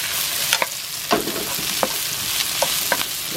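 Shiitake mushrooms fry in a hot pan for sweet and sour pork while a utensil stirs them, making a loud continuous sizzle broken by repeated scraping knocks, with no one speaking.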